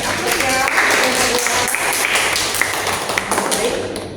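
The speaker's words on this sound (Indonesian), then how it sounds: "Ayo kita beri tepuk tangan kasih aplaus ya." A classroom audience applauds a student group presentation in a marketing communications lecture, loud and close, with scattered sharp claps and taps, some voices mixed in, and the clapping thinning toward the end.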